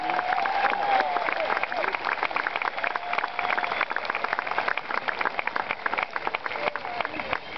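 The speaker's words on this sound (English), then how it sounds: "I want us to give a rousing applause to our Virginia National Guard for being here" An audience at a Fourth of July concert gives steady, dense applause to the Virginia National Guard. The clapping stays close and continuous throughout, with a faint voice briefly audible beneath it.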